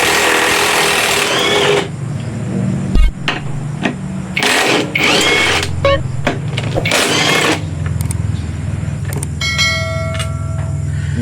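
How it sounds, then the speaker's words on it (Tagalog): An impact wrench removes the grab bar screws on a Honda Click 125 scooter, loud mechanical bursts of whirring and rattling hammering close by, interspersed with short clanks and spoken commentary. "So sa pagtatanggal ng grab bar mga katribo, gagamit lang tayo ng impact wrench."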